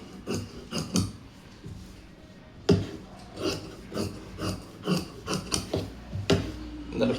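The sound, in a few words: scissors cutting blouse fabric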